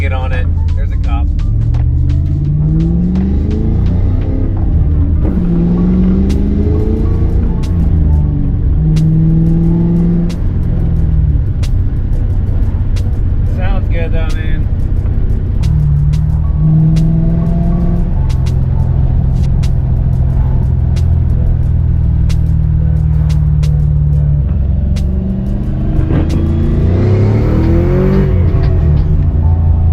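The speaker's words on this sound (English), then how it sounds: "But I'll give it a little gas so you can hear it." A 1998 Mustang Cobra engine idles low and rumbling, then swells in several throttle blips that rise and fall, close by, while people talk over it.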